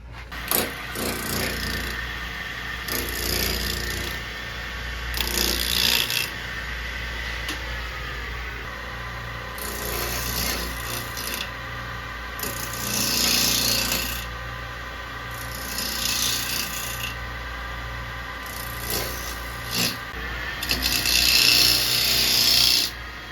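Woodturning tool being sharpened on a grinder during work on a scalloped bowl, with repeated rasping bursts of a few seconds each over a steady low motor hum, fairly close.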